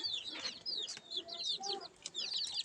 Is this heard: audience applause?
no